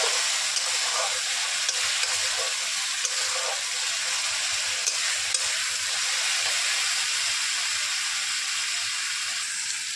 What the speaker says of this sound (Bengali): প্রথমে দিলাম তেল, তেল দেওয়ার পরে জিরে ফোড়ন, শুকনো লঙ্কা, কাঁচা লঙ্কা, তেজপাতা দিয়ে পেঁয়াজ বাটাটা দিয়ে দিলাম।